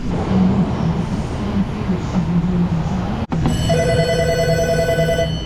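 A steady mechanical hum runs, then a sharp click gives way to a ringing metallic tone with many sustained overtones.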